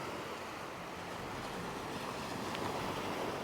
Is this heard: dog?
no